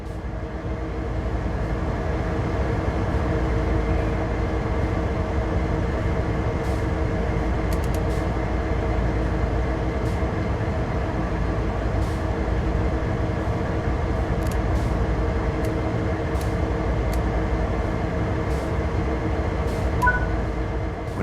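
Locomotive in the Train Sim World 3 video game, a continuous loud low engine rumble and drone held steady throughout, with occasional faint clicks and no talk.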